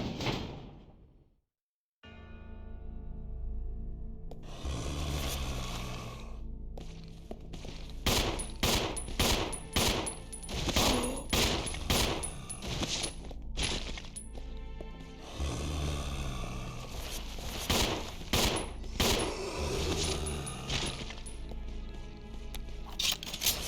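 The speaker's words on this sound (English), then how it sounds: "Oh yeah, upgraded pistol. Upgraded pistol works for me." An upgraded pistol fired in the Resident Evil 0 video game: after a brief silence, repeated sharp, loud shots ring out in uneven bursts over a dull background rumble, with occasional clanks between them.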